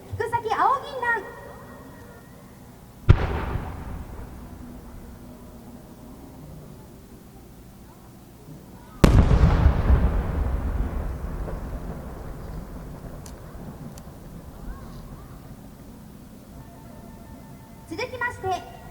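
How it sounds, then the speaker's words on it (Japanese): Two No. 8 aerial firework shells by Hibikiya Omagari burst high overhead at a fireworks show, each a single heavy boom followed by a long rolling echo that fades over several seconds. "続きまして響屋大曲煙火新入り割物花火8号玉銀木付き八重新菊崎青銀蘭。"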